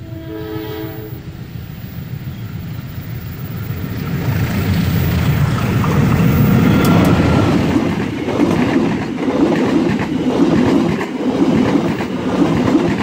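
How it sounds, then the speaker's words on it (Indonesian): The KA Serayu passenger train, bound from Purwakarta toward Pasar Senen, passes an inactive station. A horn sounds early on, then a loud, sustained rumble and rolling clatter of the carriages builds and holds nearby. "Dan keretanya yang akan melintas yaitu KA Serayu dari arah stasiun Purwakarta, tujuan akhir stasiun Pasar Senen."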